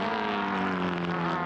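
A classic race car at Imola circuit runs at high revs with a steady, loud buzzing engine note as it downshifts, close and continuous, with no talk.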